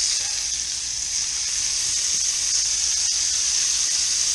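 Scallops sizzling in a hot pan, a loud, steady, hissing frying sound that holds evenly throughout with no talking.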